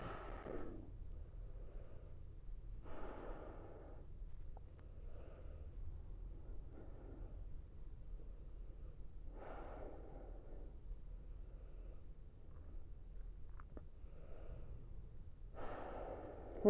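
Slow, soft breaths during a yoga shoulder and chest stretch, each exhale a faint airy rush recurring every few seconds against a quiet room hum.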